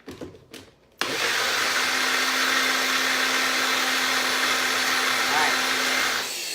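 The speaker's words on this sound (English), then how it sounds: "It'll take a second and be nice and noisy." A blender whirs loudly and steadily for several seconds after a brief clatter, then winds down near the end.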